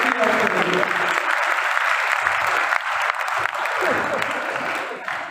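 An audience claps warmly at a children's Easter program, a dense, steady applause that holds for several seconds before thinning slightly at the end.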